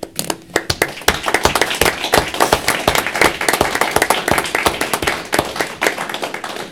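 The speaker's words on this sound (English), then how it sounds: "I think that deserves an applause." A small group at a city council meeting claps in a lively, uneven patter of applause, building quickly and continuing steadily, close and fairly loud.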